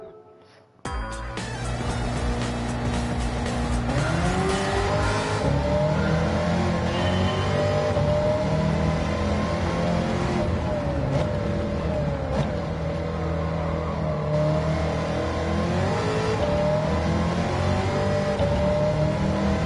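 An engine-swapped 1969 Corvette in Gran Turismo 7 revs hard, its loud, close engine note climbing and falling through sustained blips and pulls, with no talking over it.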